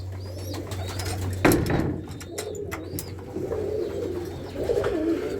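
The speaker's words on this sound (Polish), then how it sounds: "Gołębie się znowu gonią na jajka" Pigeons coo softly in low, repeated calls, with a few sharp clicks and rustles nearby and a brief low hum that cuts off early.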